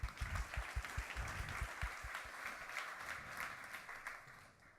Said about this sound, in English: So a big warm of applause, please.